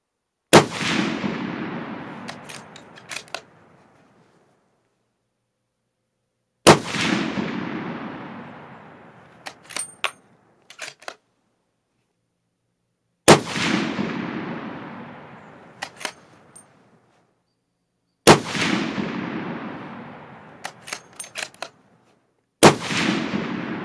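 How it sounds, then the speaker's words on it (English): Five loud, evenly spaced shots from a Remington 700 Long Range rifle in .300 Remington Ultra Magnum with factory ammunition, fired outdoors. Each blast has a long decaying echo, followed by a few sharp bolt-action clicks. "So my first real try at a good 5-shot group with this rifle and factory ammunition"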